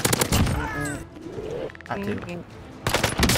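Assault rifle fire from Warzone crackles in sharp rapid bursts at the start and again at the end, with game sounds and a short spoken reply in the quieter middle.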